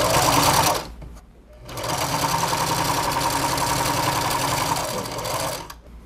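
A sewing machine runs steadily and close up, stitching a seam on fabric for a patchwork carnival princess crown, with a brief pause before it resumes its continuous whirring hum.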